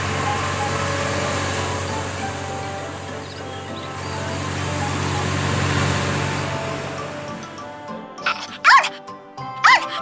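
A cartoon puppy barks twice in quick succession near the end of the clip, loud and close, after a long stretch of steady engine-like hum and background music.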